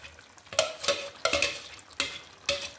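Fried potato and cauliflower being stirred into masala for aloo gobi: four or five distinct scraping, clattering spoon strokes against the pan at a steady pace over a low sizzle, close and without speech.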